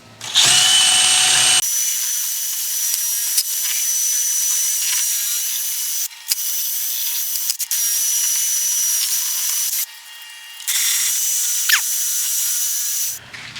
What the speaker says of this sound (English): then we're going to get the drill out.